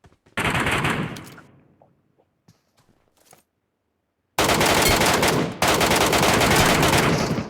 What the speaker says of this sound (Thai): โอ้โหยิงกันตั้งนานของลูก